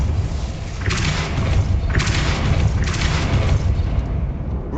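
Three heavy booming impacts from a Depulso force spell in the Hogwarts Legacy video game, evenly spaced about a second apart over a loud, dense rumbling background.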